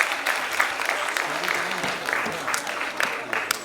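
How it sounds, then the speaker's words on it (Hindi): An audience at a cultural programme claps for the children, steady, full applause throughout, with voices faintly underneath. "फिर से तालियां बजाएं प्लीज"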